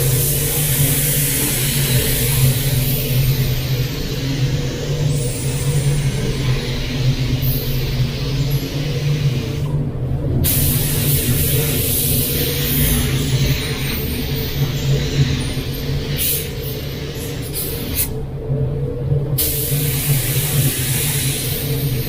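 A spray gun lays a dust coat of paint inside a booth, a loud continuous hiss over a steady low booth hum, broken by two brief trigger pauses.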